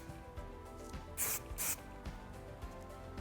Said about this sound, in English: take some light hold hairspray, mist these areas to lay down all of the flyaways